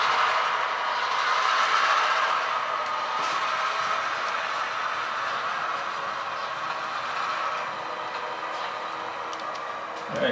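Railroad cars are pushed back along a track in a rail yard, giving a steady metallic rolling rattle with faint ticking and clicks continuing for the whole stretch, fairly close.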